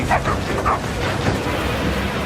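A few short, yappy dog barks early on, set against a steady dense background din with game-like ambience throughout.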